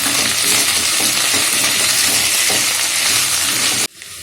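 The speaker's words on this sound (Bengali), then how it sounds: "পোস্ত বাটাটা ডাঁটা আলুর সঙ্গে খুব ভালো করে মিশিয়ে নেব।" Poppy seed paste being stirred into a vegetarian drumstick and potato curry in a pan gives a steady, close scraping sizzle that runs continuously and then stops abruptly near the end.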